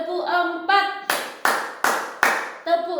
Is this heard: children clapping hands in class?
yes